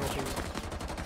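Rapid gunfire in Rainbow Six Siege, a quick burst of closely spaced shots crackling over a busy low rumble, fairly quiet and brief.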